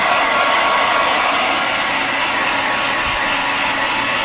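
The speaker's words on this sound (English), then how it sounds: "With a handheld blow dryer like I'm using" A handheld blow dryer drying a Persian kitten runs steadily throughout, a loud, constant broadband whoosh with no pauses or voices.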